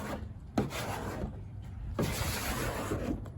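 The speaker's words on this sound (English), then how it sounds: "I'm about to just squeegee some of the soapy solution out" A squeegee pushes soapy solution out from under a vinyl graphic on a Ford Maverick hood, giving close rubbing squeaks and wet scraping strokes in a few short passes.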